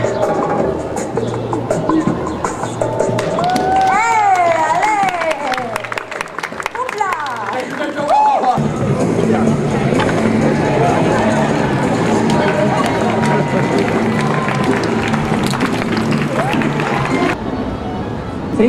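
An audience at a live comedy show in Boston erupts into loud cheering, whistling and applause that holds steady. Before it, a performer's voice is heard over lighter crowd noise.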